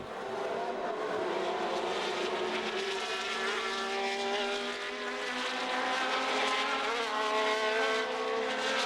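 1970 Formula One race cars erupt across the start line as the field gets away, a Ferrari taking the lead. Several high-revving engines roar together in a dense, sustained wall of sound, loud and steady, with no talking.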